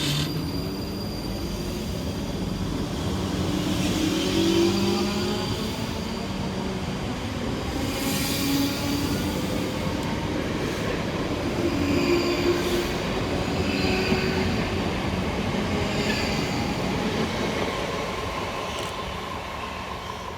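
Two coupled South Western Railway class 458 electric multiple units, 458404 and 458419, rumble steadily through a station for a long stretch, with wheel noise and faint squeals rising and falling over a continuous roar.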